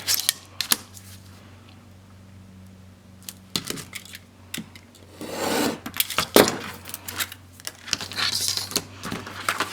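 Paper album cover being trimmed, with close scattered snips, scrapes and rustling handling of paper, a longer rubbing and cutting stretch in the middle, over a low steady hum and no voices.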